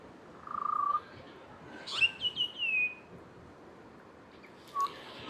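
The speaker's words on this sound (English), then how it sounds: "I've got this little chap providing some birdsong for the morning" A small bird sings in the morning on the Queensland coast, giving a few short, clear chirps and whistled phrases separated by quiet gaps, fairly faint against a hushed background.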